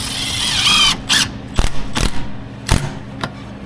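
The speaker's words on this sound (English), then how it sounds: "So what we're doing now is actually putting the screws in." Screws driven in while fitting a Carafan ventilation fan to a caravan, heard as several short sharp bursts of drill or driver noise separated by pauses, close by with a steady hum underneath.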